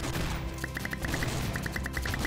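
Rapid gunfire in the game Red Ball 4 crackles in two quick bursts of repeated shots, loud against a noisy background.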